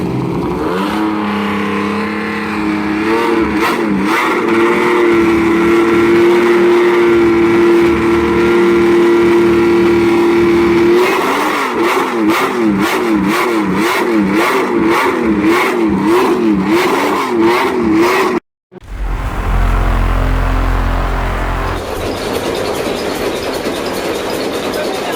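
1960s Formula One race car engine starting and revving, a loud raw mechanical roar with rising and falling revs and rapid pulsing, cutting out abruptly before a deep rumble resumes.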